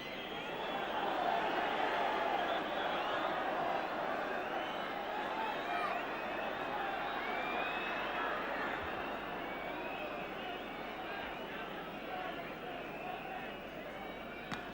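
A football stadium crowd late in a Leeds United versus West Bromwich Albion match, a broad steady roar and murmur of many distant voices with chanting, continuous throughout.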